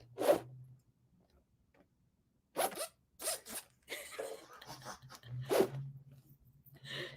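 A galah cockatoo imitates a zipper several times: short raspy zipping bursts separated by pauses, close and clear over a faint low hum.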